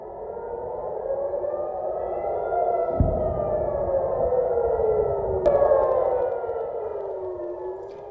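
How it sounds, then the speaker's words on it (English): A loud air raid siren wails steadily over central Israel during a missile attack, its pitch slowly rising and falling, with a couple of sharp thuds partway through. "These are the images of sirens blaring over central Israel"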